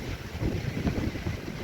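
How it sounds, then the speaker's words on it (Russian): Strong autumn wind blowing through a garden with grapevines and an old cherry plum, a steady rushing roar with buffeting gusts against the microphone. "Ветер шумит."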